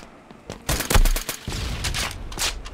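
Gunfire in the mobile shooter Pixel Strike 3D, a string of sharp, close shots in quick irregular bursts lasting a couple of seconds, with no talk over it.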